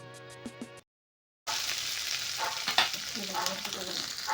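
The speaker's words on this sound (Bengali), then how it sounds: "ওই মশলার সঙ্গে কলাইয়ের ডাল সমস্ত কিছু মেশাতে হবে" Spices, urad dal and a bay leaf fry in oil in a pan, a steady close hiss of sizzling with stirring scrapes that starts after a brief musical tone and a moment of silence.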